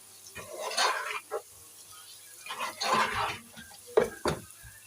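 A spoon clinks and scrapes in a metal tray while spices and ingredients for chicken jalfrezi are mixed together, in short irregular bursts of clattering close to the microphone.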